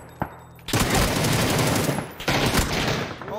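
Rapid bursts of enemy gunfire in a video game, loud and close, a short shot then sustained volleys with a brief gap before another dense burst.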